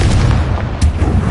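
Confringo explosive spell cast in Hogwarts Legacy, a loud, dense booming blast filling the whole moment with a second burst near the end, no talking.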